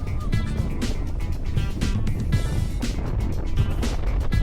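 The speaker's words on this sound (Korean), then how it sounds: "그중 첫 번째로 체험한 건 검벌레 해수욕장에서 보트를 타는 것이었는데요" Motorboat ride at Geombeolle beach on a small island, with a steady engine roar, wind and rushing water, broken by bursts of splashing as the hull slaps waves; loud and close, no clear talk.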